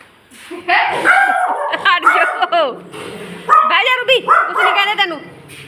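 A dog barks and yips in short excited bursts, close and loud, interleaved with people talking over it.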